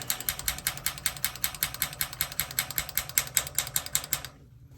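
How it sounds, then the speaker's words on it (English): A newer-style water heater's pilot igniter snaps off a rapid, steady train of sharp clicks, roughly four or five per second, close and loud, then stops abruptly into near silence. "I'm going to hold that pilot down, and we're going to spark it some more."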